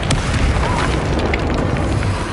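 Incendio fire spell in the video game Hogwarts Legacy, a loud, sustained booming blast of roaring fire with crackling bursts throughout, dense and continuous, no talking.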